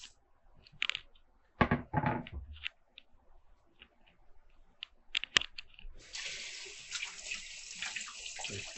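Hands rinsed under a running kitchen tap, with scattered clatter and splashes at first, then a steady rush of water settling in for the last few seconds, close by and with no talking.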